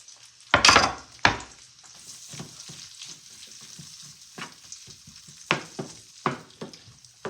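Peppers and onions fry in a pan for a cabbage and beef sausage dish, a steady close sizzle with sharp loud crackles and pops near the start and scattered stirring clatters later.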